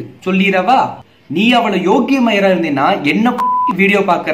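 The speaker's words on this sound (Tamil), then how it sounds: "இப்ப இந்த பீப் சவுண்ட் வரும்போது கூட என்ன வார்த்தை சொல்லி இருப்பான்னு யோசிக்கிறீல" A short, steady censor beep cuts over a swear word in the middle of lively Tamil conversational speech, lasting under half a second before the talking resumes.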